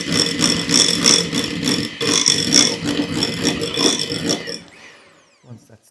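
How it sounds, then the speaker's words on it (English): A whisk runs against a bowl to loosen soft, room-temperature cream cheese for frosting, making a busy rhythmic rattle for about four seconds before it stops and a few faint clinks follow. "So we're going to give that a whisk and just get that loosened up."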